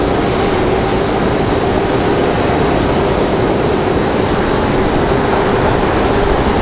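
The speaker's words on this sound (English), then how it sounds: "There is that Republic Airways from Nashville, Tennessee" A Republic Airways jet arriving at Raleigh-Durham from Nashville, Tennessee, a loud constant engine roar with a faint steady whine, unbroken throughout.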